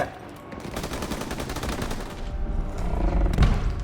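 Covering gunfire in the World War II shooter game Call of Duty: WWII: rapid, continuous bursts of rifle and machine-gun shots, loud and sustained, growing heavier toward the end.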